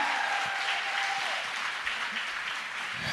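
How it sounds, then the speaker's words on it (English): A conference audience applauds Brown Assets Group at an event on the power of credit, giving a steady, moderately loud wash of clapping that carries on evenly for a few seconds with no voices over it. "Won't you clap it up for Brown Assets Group?"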